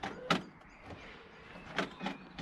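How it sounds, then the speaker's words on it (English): Electric driver's door window motor on a 2007 VW Beetle, heard as a few faint, short whirring bursts with soft thunks in a quiet setting, no talk. "if you turn the key one way or the other, it opens the driver's door window"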